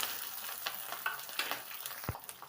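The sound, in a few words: onions and chillies frying in tempering oil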